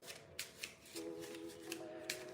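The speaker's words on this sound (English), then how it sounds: "I'm gonna shuffle this deck a bit." Quiet, close riffling of a deck of cards being shuffled, with a few sharp snaps over a faint steady tone.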